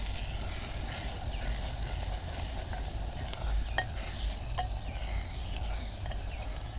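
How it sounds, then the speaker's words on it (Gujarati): Spices sizzling in a clay pot over a traditional stove while being stirred, with a continuous close fry hiss and a few faint scrapes and ticks of the spoon. "હવે બધું મિક્સ કરી લઈશું."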